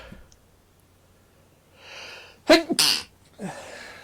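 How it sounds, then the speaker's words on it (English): A single sharp sneeze bursts out after a soft inhale, followed by a brief sniff or breath. "think I'm going to sneeze."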